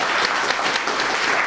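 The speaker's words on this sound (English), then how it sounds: "Let's give them a round of applause too." Dense, loud applause from a crowd at an IoT meetup in New York ahead of an Arduino founder talk, continuous clapping with no break across the whole moment.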